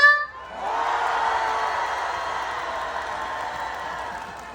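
Crowd at an outdoor district sports festival in Gwanak-gu, Seoul breaking into loud applause and cheering, a broad sustained roar of clapping and shouts that holds steady and slowly eases, with no voice over it.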